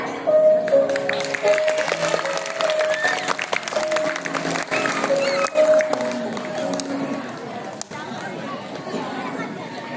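An audience claps steadily for a stage performance, with crowd chatter running underneath and a host's voice speaking over the applause throughout.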